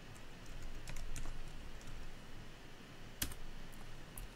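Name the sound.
typing on a computer keyboard to post on Facebook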